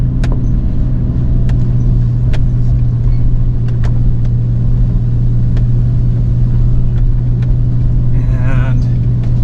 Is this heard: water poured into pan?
no